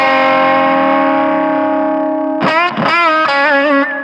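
Distorted country electric guitar solo run through an SSL console plugin: one long sustained note, then quick bends and vibrato-laden phrases, loud and upfront with no talking.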